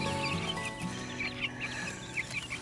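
Chickens clucking near a coop for young pullets: several soft clucks and short calls from a few hens, close by and scattered irregularly over a steady background of farmyard noise, with no talk.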